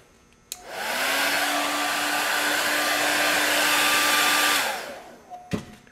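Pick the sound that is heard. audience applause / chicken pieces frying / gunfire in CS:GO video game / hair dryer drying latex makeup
hair dryer drying latex makeup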